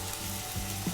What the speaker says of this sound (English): you want the beef to develop a really nice crust as soon as you place the beef right onto the hot pan